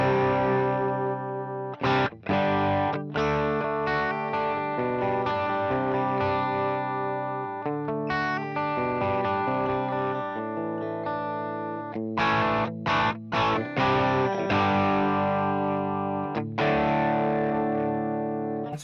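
Electric guitar on a driven, distorted channel of a Fractal FM3 amp model plays sustained chords and riffs with effects, loud and continuous throughout with no talking.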